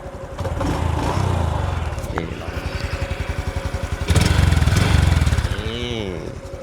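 A new 2026 Honda Wave 110 motorcycle engine idles close by with a steady, pulsing putter that swells briefly as the throttle is blipped, while someone talks over it.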